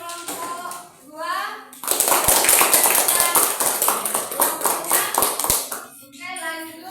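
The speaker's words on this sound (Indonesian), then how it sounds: "Oke, tepuk tangan dengan kelompok 2." Schoolchildren in a classroom burst into loud, quick clapping for a presenting group, several seconds of dense hand claps between short bursts of a teacher's and children's voices.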